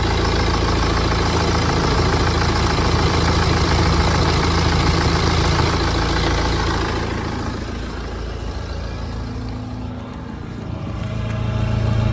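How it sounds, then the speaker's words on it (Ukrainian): A car engine idles steadily with a dense, even hum that dips slightly partway through, then swells again. No voices. "Ось слухайте, як працює двигунчик, все рівненько, все тихенько."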